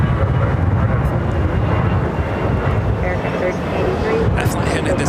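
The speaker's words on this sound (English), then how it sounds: "American Airlines flight 1383. It's an A319. Seems like they're trying to compensate. Yeah, there's a little rocking and rolling on takeoff" An American Airlines Airbus A319 takes off in gusty wind at LAX, its engine roar a steady, broad rumble heard at a distance and mixed with wind buffeting the microphone for the whole stretch.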